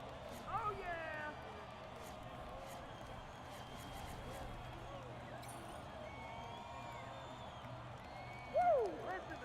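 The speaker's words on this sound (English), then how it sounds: "Listen to the crowd." A steady roar of arena crowd noise from the NBA 2K24 basketball video game, a dense, even wash of cheering that fills the whole stretch, with a brief sharp squeak near the end.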